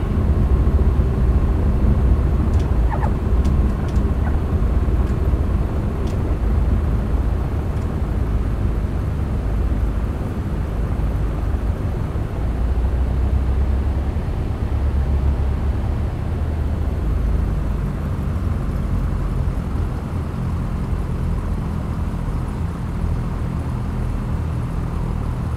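A light aircraft taxiing at Lees Summit Airport in the X-Plane 11 flight simulator, a steady droning engine rumble that holds close and even throughout with no talk.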